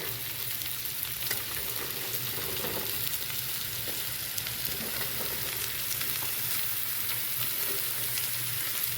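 Chopped snake gourd fries in a hot pan with a steady, moderately loud crackling sizzle, a few faint scrapes and taps now and then, and no talk.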